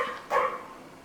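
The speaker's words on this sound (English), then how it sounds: "dog's barking." A dog gives a single short bark nearby, moderately loud over a faint background, with no talking.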